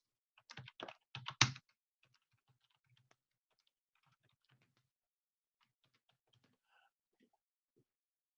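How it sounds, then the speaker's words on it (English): Typing on a computer keyboard: a quick, close burst of clicking keystrokes at the start, then a few sparse faint taps trailing off into near silence. "by just typing it in."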